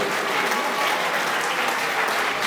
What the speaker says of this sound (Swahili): mapigeni makofi kidogo